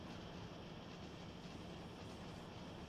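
A train in the video game Factorio rolls along with a steady, even clatter of wheels on rails, faint and continuous throughout.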